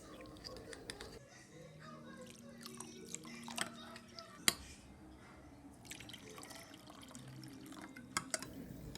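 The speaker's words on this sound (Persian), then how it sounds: "این آب رو کم کم اضافه میکنم که رب گوجه فرنگی به طور کامل حل بشه" Water poured gradually into tomato paste for stuffed eggplant, giving soft splashes and irregular drips with a few sharper clinks against the pan or glass, faint and close.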